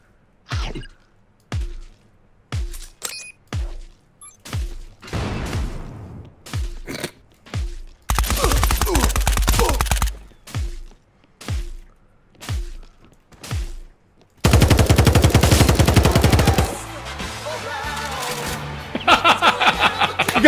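Video game gunfire: sharp single shots repeating in a steady rhythm, broken by a few longer bursts of dense rapid fire, loud and close.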